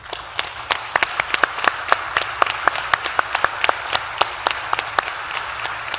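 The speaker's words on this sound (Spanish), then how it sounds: "quiero pedir un aplauso para ella y para todos los servidores públicos que van en esa línea" An audience at a CADE business conference in Peru applauds public servants: a brisk, fairly close round of clapping with distinct individual claps standing out over the general patter, continuing evenly throughout.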